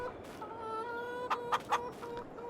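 Chickens in Farming Simulator 22 cluck softly in a continuous tonal murmur, with three sharper clucks in quick succession partway through, fairly quiet and without speech.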